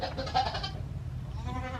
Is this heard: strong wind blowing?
no